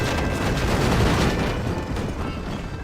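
Red Dead Redemption gunfight with dense, continuous gunfire. Loud, overlapping shots blur into a steady roar of firing.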